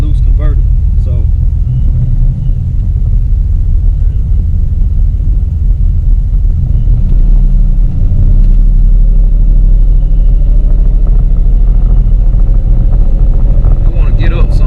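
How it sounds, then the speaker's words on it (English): A turbocharged Camaro engine with a TH400 automatic transmission and reverse manual valve body drones loud and close inside the car, a deep, steady rumble that swells and shifts in pitch as RPMs rise and drop, while someone talks over it. "I want y'all to pay attention to the RPMs and see the drop in RPMs"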